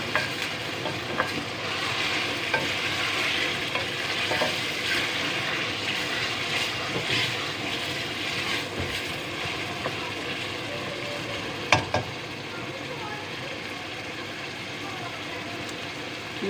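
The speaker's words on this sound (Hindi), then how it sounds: "कड़क सी आवाज़ आ रही है तड़के की, कि हमारा कीमा रेडी हो रहा है।" Mutton mince sizzling as it fries in a pan, a steady crackling hiss with scraping spoon strokes and occasional clicks, heard close throughout.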